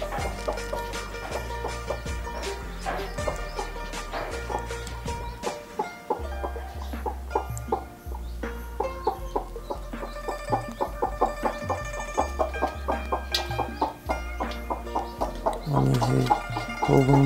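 A broody hen sitting on a clutch of eggs during natural hatching clucks in a steady, close stream of soft, repeated calls for the whole stretch, with some background rustle.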